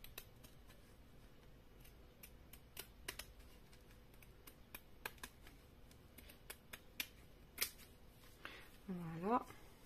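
Scissors snipping paper for a sea-themed craft album, a quick series of faint, crisp clicks at an uneven pace, ending in a brief rustle.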